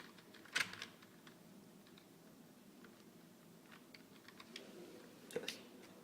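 Typing on a computer keyboard during a test of an Alphatop laptop keyboard project whose keys are not working properly; faint, sparse key clicks with a couple of louder taps near the start and end, no speech.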